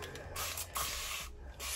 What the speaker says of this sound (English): the first thing I'm going to do is I'm going to spray my hair all around my head